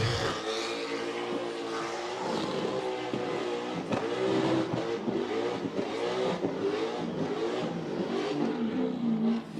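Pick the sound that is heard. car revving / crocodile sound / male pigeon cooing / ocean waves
car revving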